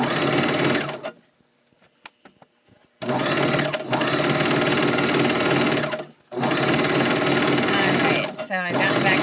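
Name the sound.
sewing machine stitching fabric for a girls peasant dress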